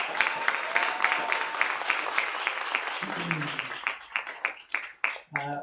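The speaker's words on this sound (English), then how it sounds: "can we give the two of them a round of applause?" A release-party audience applauds: steady dense clapping fills the room, thinning into scattered individual claps toward the end, with some speech underneath.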